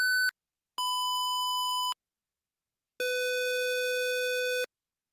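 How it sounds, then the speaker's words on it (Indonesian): Three electronic beeps from a microcontroller-built digital alarm clock, steady and tonal, each lasting about a second or more with short silent gaps, the last one lower-pitched and longer; no talking. "Lalu alarm akan berbunyi."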